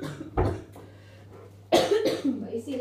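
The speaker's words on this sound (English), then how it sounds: "he coughs at the moment" A baby's cough during an immunisation visit: two short, harsh bursts separated by a pause, the second followed by fussing vocal sounds, close and fairly loud over a faint steady hum.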